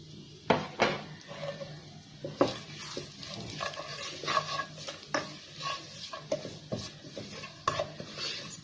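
Semolina halwa with almonds and pistachios stirred in a pan, repeated close scrapes and clinks of a spoon against metal over a soft sizzle, irregular in rhythm.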